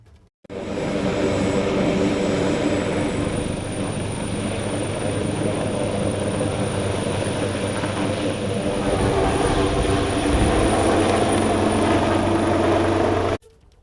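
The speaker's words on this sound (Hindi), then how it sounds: "इस वक्त मैं हेलीकॉप्टर में सवार हूं" A helicopter flying over Kolkata, heard from inside the cabin as a loud, steady engine and rotor roar with a constant high whine, running unbroken for about thirteen seconds.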